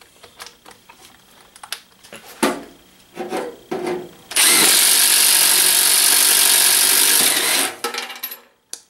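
A Milwaukee M18 FUEL 2653-22 impact driver spins a 1-inch hole saw through wood, first with short scraping and tapping, then a loud, steady cutting whir for about three seconds that stops abruptly.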